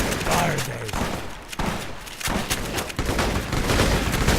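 Enemy gunfire in Fallout New Vegas, repeated loud shots and rattling bursts spaced across the moment with thuds between, mixed with a voice.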